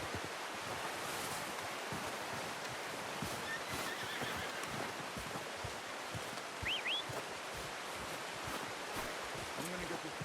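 A horse in Red Dead Redemption 2 whinnies, a short high call rising over steady outdoor noise of wind and surf, with shuffling hoof sounds around it.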